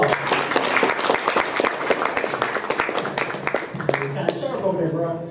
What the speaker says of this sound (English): Minister Regan another round of applause.